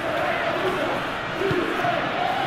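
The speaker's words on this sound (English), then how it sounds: "Crowd appreciates good football all round there." Stadium crowd in an eFootball Champions League match between Barcelona and Dynamo Kyiv, a steady broad roar of applause and cheering swelling slightly, continuous and fairly loud throughout.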